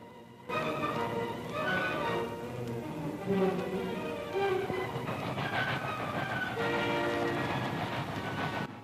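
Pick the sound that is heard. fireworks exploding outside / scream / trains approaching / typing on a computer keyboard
trains approaching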